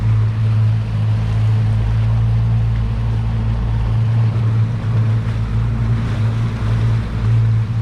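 Fishing boat engine motoring slowly at about 4 knots while trolling for mahi off Duck Key, a loud steady low drone with a constant hum, wind and water wash over it.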